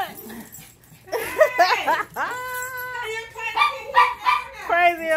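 Several old dogs playing around a house, giving repeated yips, whimpers and whiny bursts in quick, uneven succession, close by, with a person talking over them.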